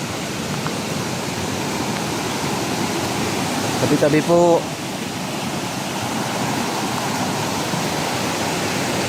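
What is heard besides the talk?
strong rushing river water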